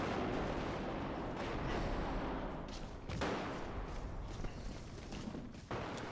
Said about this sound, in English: So gunshot occlusion has completely been reworked, so that when somebody fires behind a wall,